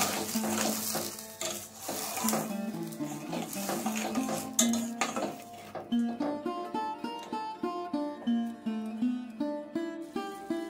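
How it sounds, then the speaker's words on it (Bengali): Turmeric, coriander powder and other spices being fried and stirred in oil for Bengali-style ghugni, a soft sizzle with pan scrapes early on, later mostly covered by rhythmic background music. "এবার এই সব মশলাগুলোকে আমি ভালোভাবে কষিয়ে নিই।"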